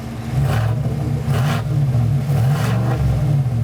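A 2024 Chevrolet Silverado 1500 ZR2 with the 6.2L V8 and active exhaust revs hard, its loud, rumbling idle rising in several throaty swells, heard close up with no talking.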